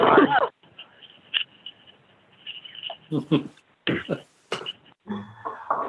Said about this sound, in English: So Sorry, I was coughing